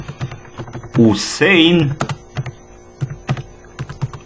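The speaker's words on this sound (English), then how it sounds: "now I will type" Typing on a computer keyboard in a run of light, irregular key clicks, with someone speaking briefly over the start of the tapping.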